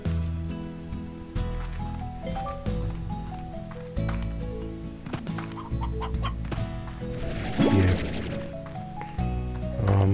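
Hen clucking in the video game Slime Rancher, repeated clucks over looping game music and effects, fairly loud in the mix.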